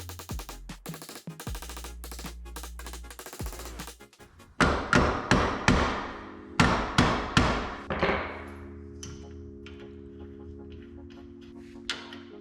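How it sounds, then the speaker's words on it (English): A hammer strikes a Subaru housing after it has been sprayed with PB Blaster, first a run of rapid metallic clanks and then a series of loud, ringing, evenly spaced blows heard close by. "spray some PB Blaster in there, really get it into all the corners, and then hammer it out"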